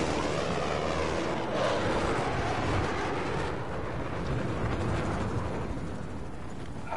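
A helicopter in Battlefield 4 drones steadily with a broad engine and rotor roar that swells slightly early on, then holds at a constant level, fairly close, with no talk.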